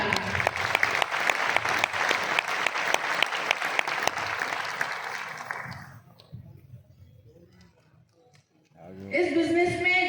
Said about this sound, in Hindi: लिए जोरदार ताली।